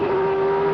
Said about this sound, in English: You can hear from the engine constantly revs going up or down